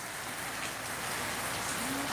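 Light rain patters steadily with soft, close droplets, a constant even wash of small drops falling without pause, and no talking.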